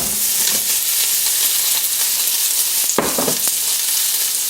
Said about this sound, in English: I'm going to brown the bacon first of all.